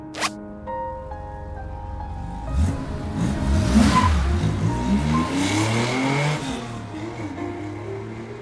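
A car in a video game starts up and accelerates, engine pitch rising and sweeping through gear changes, loud and close with a brief chime at the start.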